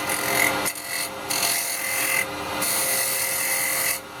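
A carbide tool scrapes across the rim of a small wooden bowl spinning on a lathe, a hissing, rasping cut in several bursts broken by brief pauses as the tool lifts off, fairly loud and close with no talk.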